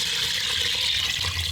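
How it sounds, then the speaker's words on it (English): Water pours steadily into an Instant Pot for chicken stock, a continuous splashing stream that stays even and fairly loud throughout. "the first thing we're going to do is add about 8 cups of water"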